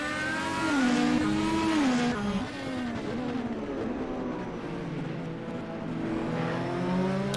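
An Indy race car engine screams around the Circuit of the Americas track, its whining pitch rising and dipping through gear changes, loud and close at first before settling into a steady, slightly distant drone.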